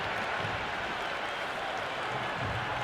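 Video game crowd at a cricket match in Cricket 26 roaring steadily after a boundary, a dense, continuous wash of cheering and applause that holds at an even level throughout.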